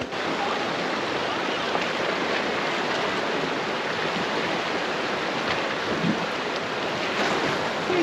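A Jeep fords an icy mountain stream on the Schofield Pass trail near the Crystal Mill in Colorado, with a continuous loud rush and splash of water and wind noise filling the whole stretch.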